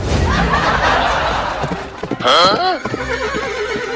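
A horse gives a loud, close whinny with hooves clip-clopping in a Hindi village comedy scene, while people talk and laugh around it.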